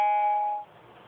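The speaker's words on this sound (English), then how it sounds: "excuse the noise. I must have got an email." A short electronic email alert chime from a Motorola Photon 4G phone rings out with a bright, sustained tone that fades after about half a second, leaving quiet room noise.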